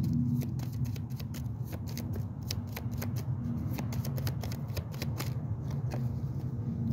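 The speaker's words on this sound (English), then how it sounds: "Shuffle and see what card wants to lead the pack as we clarify grace." A tarot deck is shuffled close by in a quick, steady run of crisp card riffles and flutters lasting several seconds, with soft background hum and no talking.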